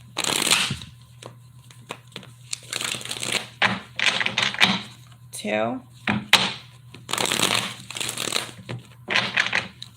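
Tarot card deck shuffled in quick, crisp riffling bursts that repeat several times, heard close under a voice counting and talking.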